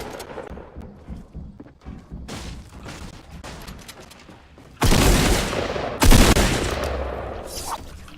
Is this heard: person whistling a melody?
no